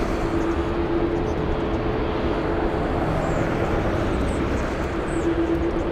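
A Lynden Air Cargo C-130 Hercules at LAX rumbles with a steady, broad turboprop roar, a constant loud drone with a faint whining tone, lasting throughout without pause.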